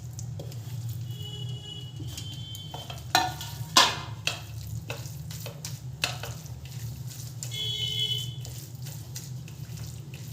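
Cooked eggplant mashed for begun bharta, prepared without roasting over a flame: a few soft, wet squelches and clicks cluster near the middle, over a steady low kitchen hum, with no talking.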